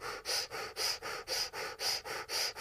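Rapid fire breathing in a breathing exercise: loud, close, rhythmic forceful breaths through the nose, about ten evenly spaced pulses with no talk.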